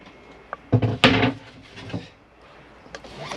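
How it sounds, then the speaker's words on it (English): Plastic access panel lifted out from behind a cupboard in a Chausson Flash 634 motorhome, giving a few close knocks and scraping clatters over about a second, then quieter handling rustles. "So lift this panel out"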